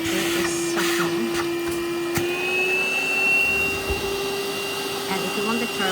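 A Tefal X-PERT 6.60 Allergy Handstick cordless stick vacuum cleaner runs with a steady whining motor hum and a high tonal whistle that rises slightly, continuous and close, with someone talking over it.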